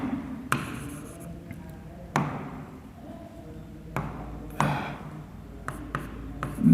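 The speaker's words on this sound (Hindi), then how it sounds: "नॉट लिख दिया मैंने" Marker or chalk strokes on a board during a grammar lesson, a few sharp scraping taps spaced a second or so apart over a quiet room background.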